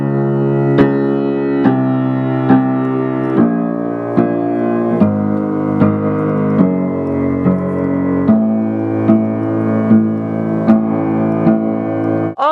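A solo piano plays a piece with the bass line included. Steady chords sound on a regular pulse while the melody moves above them, with no voices.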